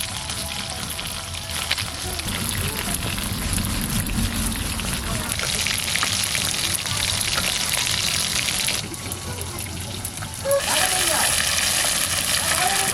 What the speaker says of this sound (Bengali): আলুটা ভেজে নিলাম